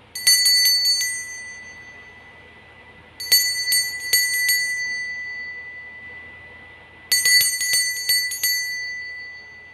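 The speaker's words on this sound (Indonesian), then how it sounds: "Kita akan memulai dengan ditandai lonceng berbunyi." A bell rings out in three separate groups of bright, clear strikes, each cluster of several quick dings fading away before the next, loud and alone against a quiet background to mark the start of a tarot reading.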